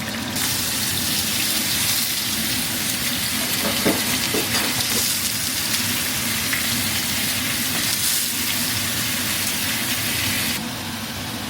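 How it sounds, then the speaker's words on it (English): Small tuna-like Fijian fish frying in a pan with a steady, loud sizzle, plus occasional stirring and clattering, continuing with no talk throughout. "So I'm going to fry them and then have them for dinner."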